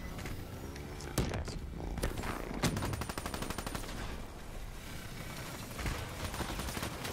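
Gunfire in the video game Call of Duty: Black Ops III, with rapid automatic bursts and scattered single shots over a busy, moderately quiet game soundscape.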